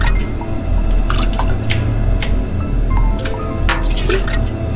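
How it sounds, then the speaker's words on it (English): Water dripping and splashing steadily as plants are watered in the video game Clap Clap, a continuous wet trickle with scattered sharper drops, fairly close and loud, with no speech. "Go down the stairs first and water these here plants."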